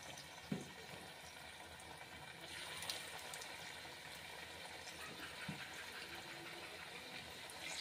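Onion pakora (peyaji) batter dropped into hot oil for an iftar snack, giving a steady broadband sizzle with a couple of soft plops as pieces go in, close and continuous.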